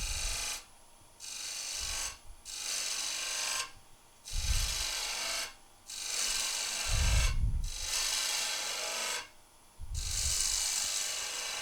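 A lathe tool cuts a V into a spinning wooden spindle in repeated scraping passes, each lasting about a second or two and separated by short quiet gaps, close and fairly loud with low rumbling bursts from the lathe.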